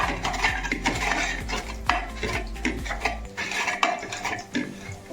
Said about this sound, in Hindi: तो अभी मैं इसको अच्छे से पहले इसको मैश करेंगे